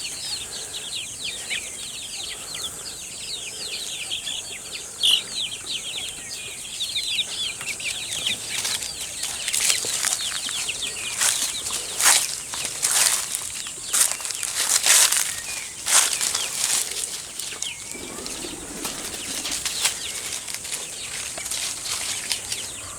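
Chickens, including larger chicks, flutter and flap their wings in repeated bursts amid soft clucking and scratching, with a steady outdoor background throughout.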